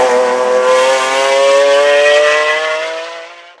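A McLaren F1 supercar engine accelerates hard, a loud, close, high-pitched rising wail sustained for several seconds before fading, with no talking.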